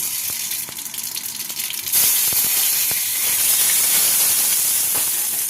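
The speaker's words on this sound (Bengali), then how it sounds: "তো এবার রাঁধুনিটা আমি ফোড়নে দিয়ে দিচ্ছি।" Whole radhuni, fenugreek seeds and two bay leaves hit hot oil as a tempering for shukto, giving a steady loud sizzling hiss that jumps louder about two seconds in and stays strong, with faint ticks of stirring beneath.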